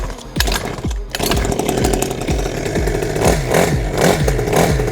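Close by, a 49cc kids' mini dirt bike engine fires with a rapid, buzzy two-stroke note, rising to a sustained loud rev with a few surges and no speech.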